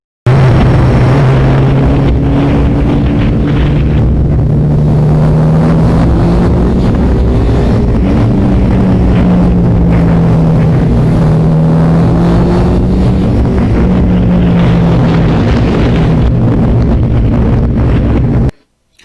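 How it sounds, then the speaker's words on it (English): A 1982 Suzuki GS1100E motorcycle engine drones steadily on the move, its low humming note partly buried under constant wind buffeting on a remote microphone, with no talking. "it picks up the wind noise and it mutes some of the engine sound"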